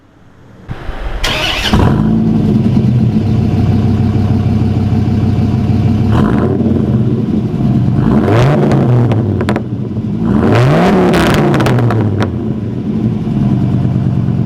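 A powerful V10 engine in a modified 2006 Dodge Ram SRT-10 truck idles loudly, then revs hard in repeated rising and falling bursts, close and continuous throughout.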